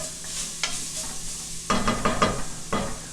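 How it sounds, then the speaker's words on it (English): Garlic hits a hot pan while braising chicken, with quiet stirring at first, then bursts of loud crackling sizzle and scraping as it fries up close. "as soon as garlic hits the pan, fills the house"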